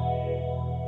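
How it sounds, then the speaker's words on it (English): Electric guitar played through the modded phaser setting of a Joyo Vision multi-effect pedal, a sustained swirling tone with a touch of reverb, loud and alone for about a second. "First effect, modded phaser."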